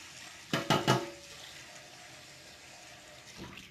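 A kombucha bottle is rinsed out under a running tap, with a few quick sloshing clatters early on over a steady hiss of water, then a final splash, heard close and quiet.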